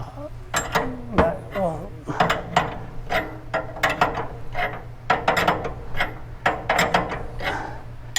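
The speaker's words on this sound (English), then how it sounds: "you're sitting here just wrenching away for a good bit to get all the load off of it" A hand wrench cranks a spring compressor down on a car's coil spring during lowered suspension work, producing repeated close ratcheting clicks in bursts separated by short pauses, with someone talking over parts of it.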